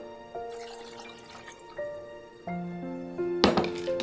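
Water poured into a bowl of soy sauce, dark soy sauce and sugar, a quiet ringing trickle that builds into a louder splashing pour near the end, alone without voices.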